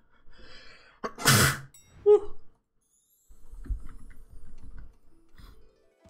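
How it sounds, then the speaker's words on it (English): A single sharp sneeze bursts out loud and close, followed by a brief catch of breath, then quiet low rustling. "I'm about to sneeze"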